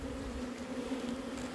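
Bees buzzing around a hive, a steady low hum of many insects close by.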